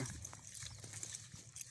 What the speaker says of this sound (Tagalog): tatlong beses po tayo nagpapakain ng kabayo rito sa bukid na to